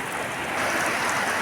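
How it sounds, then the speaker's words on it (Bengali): Heavy rain falls with wind in Patharghata, a dense continuous hiss that swells slightly louder partway through, close and steady. "মুষলধারে বৃষ্টি হচ্ছে আর বাতাস হচ্ছে।"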